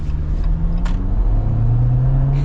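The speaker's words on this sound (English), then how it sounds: "the turbocharged 2-liter 4-cylinder actually feels quick" A 2024 Jeep Wrangler Rubicon's turbocharged 2-liter four-cylinder pulls hard under acceleration, a steady low engine drone that climbs in pitch as it gains speed, heard close from inside the cabin.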